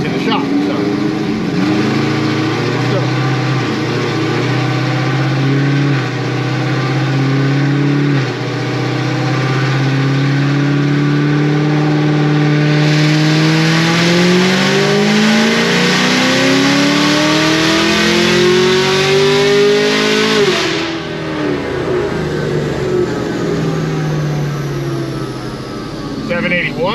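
A Stage 4 Camaro ZL1 V8 on a dyno pull, engine note climbing steadily through the revs, shifting and climbing again before dropping back to a rumble. Loud and close, with talk in the background.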